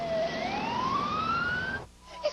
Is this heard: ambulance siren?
yes